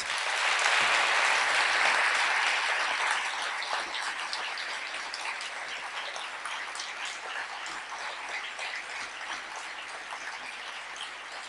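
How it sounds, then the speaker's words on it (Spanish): An audience at an urban agriculture gathering in Rosario applauds the farmers, a steady, full round of clapping that peaks early and then continues at a slightly lower level throughout. "un aplauso para los campesinos"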